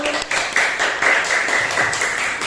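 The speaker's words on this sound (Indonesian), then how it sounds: "Tepuk tangan dulu untuk kelompok hijau." Classroom applause for a student group, a dense run of claps from many hands that holds steady at close range for a couple of seconds.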